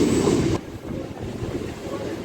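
An MMTS local train pulls out of Vidyanagar station in Hyderabad, with a louder burst of rumble at first that settles into steady rolling rail noise close by.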